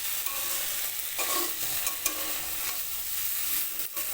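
Potato and soybean chunks stir-fried with spices in a pan, with repeated spatula scrapes and clacks over a steady sizzle, close and continuous with no voices.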